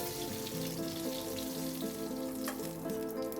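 Potato pieces fry in oil with a quiet, continuous sizzle and occasional small pops, set beneath prominent steady background music.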